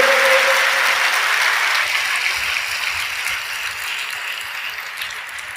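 Sustained crowd applause from a church congregation fills the space, loud at first and easing slightly toward the end, with no voices heard.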